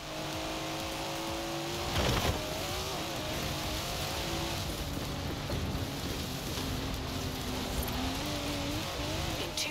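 A Datsun car in Forza Horizon 4 being driven hard, its engine revving up sharply and then holding a rough, fluctuating drone under a hiss resembling rain or tire noise, with no talk.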